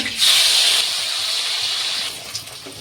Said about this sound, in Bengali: ভেজে নেব পনিরটা